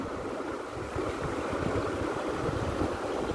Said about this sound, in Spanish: Está este río que trae el agua de entrada al dique.